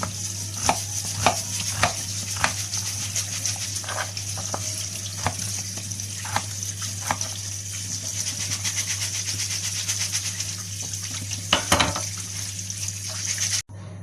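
A knife strikes a cutting board in steady, regular chops, cutting large potatoes into fingers, close and distinct, over a constant low hum in the background.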